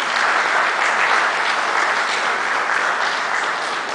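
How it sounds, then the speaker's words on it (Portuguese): A church congregation claps together in praise to welcome a preacher, a loud, dense, unbroken roar of many hands that holds steady for the whole stretch with no voices standing out. "Vamos receber o servo de Deus com as palmas que louvam o Senhor"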